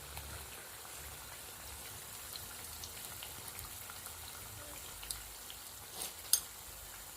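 Soya egg rolls deep-fry in hot oil with a continuous, even crackling bubble, broken by a couple of sharper pops near the end and no talking.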